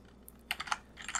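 Keystrokes on a computer keyboard while writing Python code, a short lone tap, then a quick cluster of close, crisp clicks and a brief second burst.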